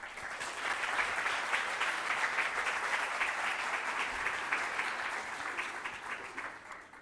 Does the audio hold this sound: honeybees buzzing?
no